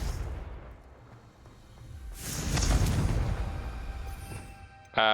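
Confringo blasting spell explosion in the video game Hogwarts Legacy, a loud whooshing blast swelling midway and rumbling out, with a sharp hit at the very end.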